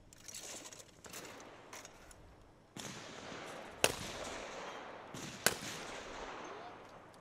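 Shotguns fire at a practical shooting competition, two sharp loud reports with shorter pops and echoing rumble between them at moderate distance, while a commentator talks over the shots.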